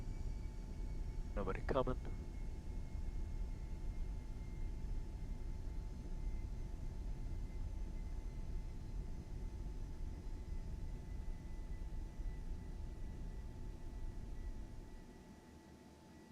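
A steady turbine hum from the Vision Jet in the X-Plane 12 flight simulator fills the cabin as a constant, even whine and rumble, with radio chatter and brief talk over it.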